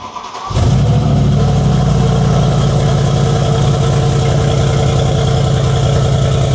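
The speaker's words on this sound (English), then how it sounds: "I think this is a IPE exhaust." A car with an iPE exhaust fires up after a brief quiet moment, then holds a loud, steady, close engine drone with a raspy exhaust note for several seconds.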